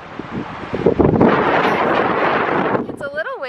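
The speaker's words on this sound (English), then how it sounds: "It's a little windy" Wind buffets the microphone in a steady, rumbling roar beside a thermal pool at Yellowstone, easing off near the end as a person starts to talk.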